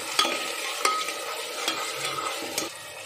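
Mutton kofta masala is stirred and roasted in a pan with garam masala, giving a steady close sizzle and frying hiss broken by several sharp scrapes of the spoon. No one talks.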